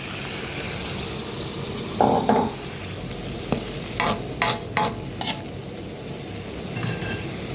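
Crispy pork stir-fried with shrimp paste sizzles steadily in a wok, punctuated by clusters of sharp metallic spatula clatters and scrapes.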